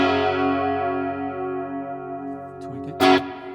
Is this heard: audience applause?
no